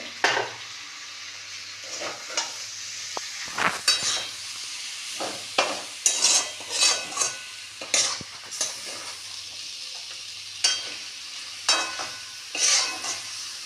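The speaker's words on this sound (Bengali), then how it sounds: "এটাকে নেড়ে চেড়ে নেব।" Ginger, coriander, cumin and chilli powder get stirred in a pan for a mung dal and pointed gourd dish: a soft sizzle underneath repeated spoon scrapes and taps that come in irregular bursts, close by, with no talk.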